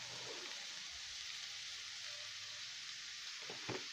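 Sliced onions fry in a pan, giving a soft, steady sizzle with a light spatter that stays fairly quiet throughout, and a brief stirring scrape near the end.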